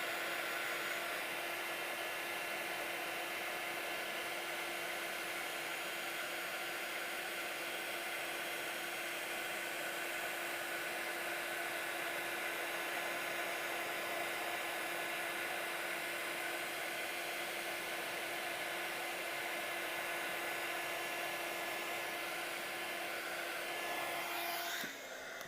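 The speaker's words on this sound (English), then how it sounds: "holding that heat gun still, as soon as we see that powder start to melt and change, we are just going to move the heat gun over the image" A heat gun melting embossing powder on a stamped card blows with a continuous, even whooshing roar and a steady whine, close and constant for the whole stretch before cutting off at the very end.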